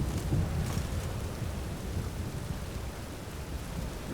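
Steady rain in The Witcher 3, a dense continuous wash of falling water heard on its own at moderate level, with no voices.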